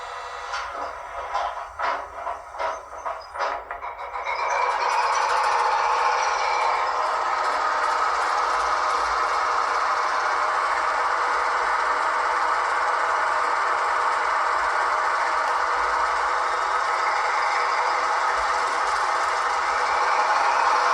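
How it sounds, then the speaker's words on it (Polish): A Piko SM31 model diesel locomotive with DCC sound on a layout: a few seconds of rattling start-up chugs, then a loud, steady engine drone that holds without a break. "Więc odpalamy sobie silnik i przejedziemy się kółeczko albo dwa po makiecie"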